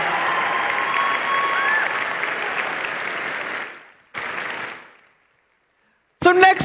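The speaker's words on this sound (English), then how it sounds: "Can we get another round of applause for our hosts here at Jefferson High?" An audience at a Jefferson High state championship event gives the hosts sustained broadband applause lasting about four seconds, followed by a brief second burst, then silence before speech begins.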